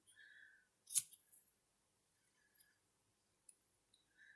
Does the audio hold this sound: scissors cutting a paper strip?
yes